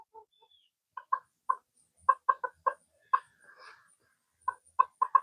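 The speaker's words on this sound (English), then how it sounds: "Let's go back to roosters and chickens." Chickens cluck in short bursts, several quick clucks in a row with gaps between, fairly close, with a soft squawk in the middle.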